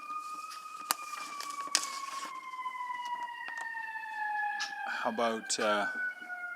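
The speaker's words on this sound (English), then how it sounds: "Somebody's got a siren in their background." A wailing emergency siren sweeps slowly through a council meeting participant's background, steady and moderately loud, with a brief voice speaking near the end.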